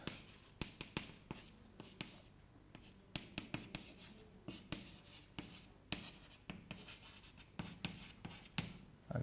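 Chalk or marker strokes on a board during a general relativity lecture, a steady run of quick scratching and tapping strokes throughout, fairly close, with no talk over them.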